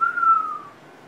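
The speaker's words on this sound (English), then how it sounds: "70 pounds of compression is going to blow the whistle" A compression-tester whistle, screwed into an engine's spark plug hole, sounds as the engine is bumped over and the cylinder's compression blows through it: one clear, steady, high tone lasting about half a second before fading, with nothing else audible.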